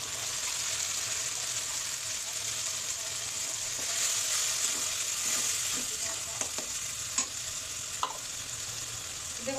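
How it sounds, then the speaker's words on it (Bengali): Onions frying for a prawn dopeyaja, a steady close hiss of sizzling oil in the pan with occasional small pops and scrapes, no voices. "পেঁয়াজ বেশি ভাজবো না, একটু নরম হয়ে আসলে দিয়ে দেবো আমার এই কেটে রাখা এই মশলাটা।"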